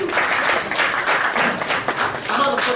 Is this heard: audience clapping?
yes